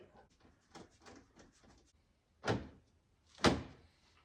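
A truck's interior door card panel is pushed back into place on the door, giving two firm, close thumps about a second apart after a stretch of quiet talk.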